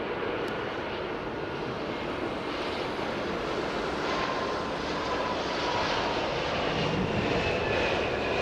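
A jet airliner lands at London Heathrow, its engines roaring steadily with reverse thrust on the inboard engines, a sustained loud rumble heard from a distance and lasting the whole stretch.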